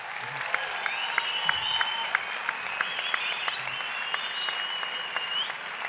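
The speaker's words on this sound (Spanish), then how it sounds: "un fuerte aplauso para nuestro compinche joven" Audience applause at a comedy show taping in Tenerife, steady clapping with sharp individual claps standing out, accompanied by cheering or whistling voices throughout.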